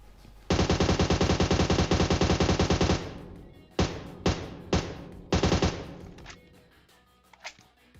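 PUBG Mobile gunfire: a long rapid automatic burst lasting a few seconds, then several short sprays, loud and close, with faint shots trailing off.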